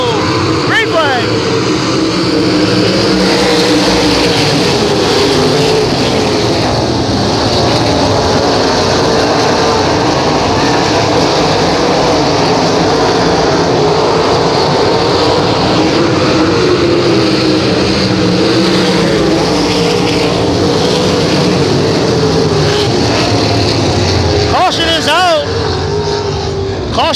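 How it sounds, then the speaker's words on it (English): Sprint cars at an outlaw speedway feature roar steadily under a green flag, a dense continuous wall of engine noise from the pack with a commentator's voice running over it throughout. "Here tonight, coming out of four, we're going green flag racing."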